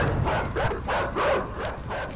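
Dogs in the video game Inside bark repeatedly in quick, yelping bursts, loud and close, with about four or five barks across the stretch.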